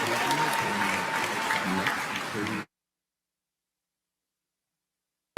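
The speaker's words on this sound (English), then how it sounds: "Thank you so much and a big applause." Commencement ceremony audience applauds in a thick, even wash of clapping for under three seconds, then cuts off abruptly to silence.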